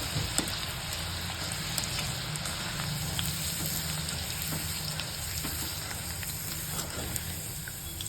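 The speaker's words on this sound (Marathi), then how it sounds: "गरम तेल असतं ना त्याच्यातच तळायचं" Bitter gourd frying in hot oil for a chutney, a steady broadband sizzle and crackle holding evenly throughout, close and moderately loud with no talk.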